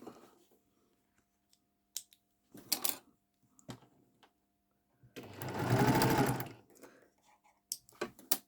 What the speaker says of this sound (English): sew a 1/4 inch seam down the length of the block.